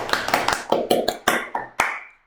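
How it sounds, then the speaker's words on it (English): Several sharp hand claps in an irregular, spaced-out burst, fairly close and loud, with no talking over them. "clap it up for Xi Jinping"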